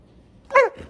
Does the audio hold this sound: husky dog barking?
yes